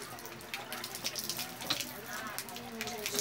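A newly installed manual hand pump, a poso, sends water gushing and splashing in a steady faint stream.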